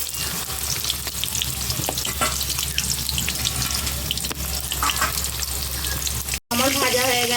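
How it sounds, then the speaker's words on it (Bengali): Pointed gourd (potol) frying in hot mustard oil, a steady loud sizzle with broadband crackle throughout, briefly cut by a short dropout near the end before the frying resumes. "সর্ষের তেলটা গরম হয়ে গেছে, এবার তেলের মধ্যে পটলগুলো আমি আগে ভালো করে ভেজে নেব।"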